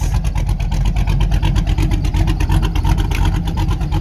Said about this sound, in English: This is with the cutouts open. Sounds pretty good. Got a nice throaty sound to it.